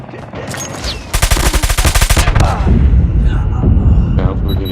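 A Type 19 rifle fires a fast burst in the mobile shooter Call of Duty Mobile, loud and close, with sharp regular cracks followed by rumbling game sounds and a voice talking faintly.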